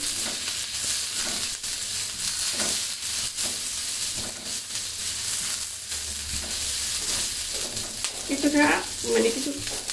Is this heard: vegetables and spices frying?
yes